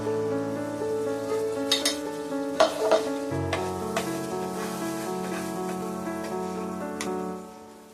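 Ground spice paste thinned with water is stirred into a frying pan for a dhaba-style paneer masala curry, a soft sizzle under repeated scraping stirs, with a steady tonal hum running underneath throughout.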